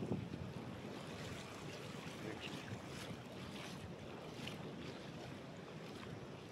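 Sea waves striking the stone banks at Mandarmani beach, heard as a faint, steady broadband wash of surf blended with wind noise, with no clear individual breaks.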